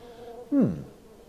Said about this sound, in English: Yeah, more bees.